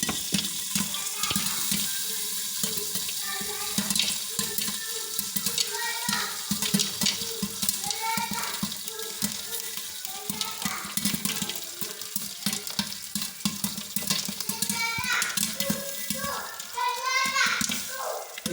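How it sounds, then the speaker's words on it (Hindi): Popcorn pops in a pan on a gas stove as a street hawker makes it the traditional way, with rapid irregular crackles and a sizzling rush running throughout under near, continuous talking. "ये पॉपकॉर्न बनने की आवाज़ है।"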